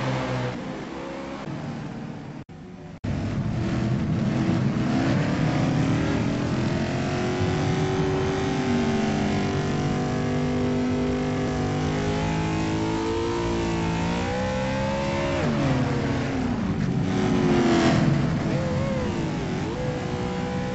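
Race cars accelerate off pit road at Bristol during a Red Dog League event, engines revving loudly and rising in pitch as they pull away, with overlapping cars roaring past and a brief dip before the sustained engine noise resumes.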